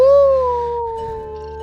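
A voice imitates a single long howl, one clear, close tone that starts strong and slowly falls in pitch and loudness as it trails off.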